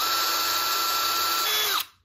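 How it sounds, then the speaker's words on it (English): A hand-held power drill fitted with a 3mm bit whines steadily and loudly at close range for about two seconds, drilling a small hole in a gold-plated Iron Man helmet, then spins down and stops abruptly. "Got a drill, 3mm drill bit, and holding it in my hand."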